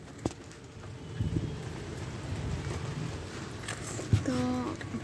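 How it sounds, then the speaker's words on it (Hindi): Heavy rain pours steadily on a Sunday, a dense continuous wash of drops with a few louder knocks and brief rustles, close and fairly quiet, no talk. "आज आग पूरा पूरा वर्षा हो बहुत जोर वर्षा हो"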